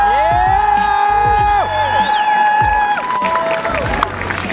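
A youth crowd at an outdoor climate strike cheers, whoops and claps loudly, with high shouts and whistles rising and sliding over a dense wash of applause.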